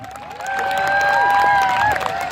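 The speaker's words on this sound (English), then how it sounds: "Ladies and gentlemen, cheer them out." Outdoors at a 14th-century-style tourney field, a crowd cheers and claps the knights off, with shrill whoops and whistles rising over the clapping and swelling in the middle before easing off.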